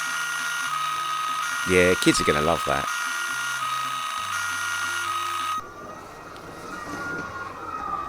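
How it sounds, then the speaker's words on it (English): A Scalextric BMW police slot car sounds its toy siren as a loud electronic wail with warbling tones and a quick rattling burst, while someone talks over it. The siren cuts off near the end, leaving quieter background noise. "Let's just have a quick look at the lights and sirens."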